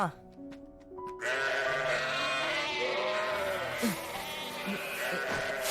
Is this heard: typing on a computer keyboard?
no